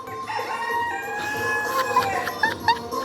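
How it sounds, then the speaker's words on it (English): A rooster crows loudly nearby in Turkey, a long drawn-out call with clucking and other fowl noises around it. "And there's just a cockerel over there as well."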